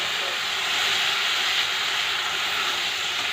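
Water hits mustard paste in a hot pan for a Bengali pomfret jhal, giving a loud, steady broadband hiss and sizzle that holds evenly throughout with no talk.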